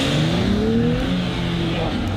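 A 2022 Nissan Z engine pulls hard through the gears from inside the cabin, rising in pitch then dropping at a shift, loud and continuous.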